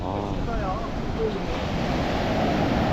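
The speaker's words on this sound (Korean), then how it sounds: "여기 파도 보이시나요?" Ocean waves of the East Sea roll onto the shore at Naksan Beach as a steady, full roar of surf, mixed with gusting wind buffeting the microphone.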